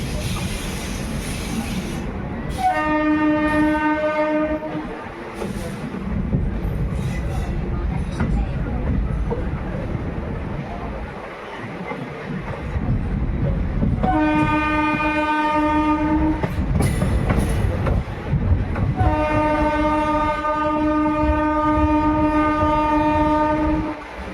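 The 22471 Bikaner–Delhi Sarai Rohilla SF Express runs through the Bikaner area with a continuous rumble and rattle of wagons, and its horn sounds in three long, loud blasts.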